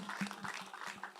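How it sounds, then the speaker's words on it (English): Brief, faint applause from an audience at an anniversary event honoring a Teacher of the Year, a soft patter of clapping with a low hum underneath. "Everyone, please, another round of applause for Aina."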